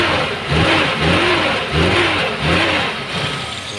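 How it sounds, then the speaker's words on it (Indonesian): Suzuki Katana GX 1997 4x4 engine revved repeatedly from idle, a throaty mid-pitched roar rising and falling in four quick rhythmic blips, close and loud, with no talking. "kita geber dari sini."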